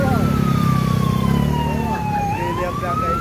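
A fire truck siren wails with a rising and falling tone near a car accident on Alabang Zapote Road in Las Piñas, loud over engine rumble and street noise.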